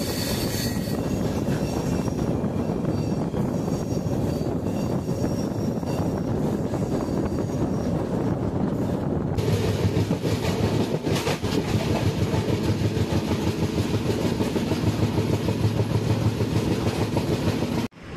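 Pondicherry–New Delhi Express passenger train rolling steadily along the tracks without stopping, a continuous loud rumble with rhythmic wheel clatter throughout, no voices.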